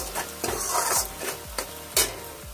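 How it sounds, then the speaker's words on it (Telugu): Onions fry with salt in a pan for fish pulusu, giving a soft sizzle under repeated scraping strokes of a stirring spoon, close and moderate in volume. "చూసారు కదా ఆనియన్స్ ఎట్లా ఫ్రై అవుతున్నాయి"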